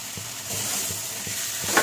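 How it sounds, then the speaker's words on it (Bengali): Spices for a red potato dum cooking down in a hot wok, a soft continuous sizzle with rhythmic scraping strokes of a spoon stirring the masala, close and fairly quiet. "সুন্দর করে কষিয়ে নিতে হবে এইভাবে"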